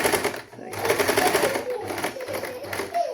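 A sewing machine stitching a saree blouse runs almost without pause, a fast mechanical chatter that briefly slows once, while a person talks over it.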